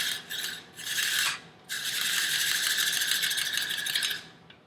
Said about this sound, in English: turn the handle, and there's your nice shredded butternut squash using the number 2 cone